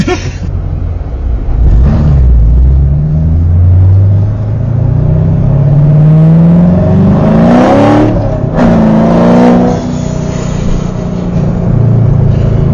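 A C7 Corvette Stingray engine revs hard and accelerates with wheelspin, its loud close roar rising in pitch through repeated sweeps, with bursts of tyre noise in the middle.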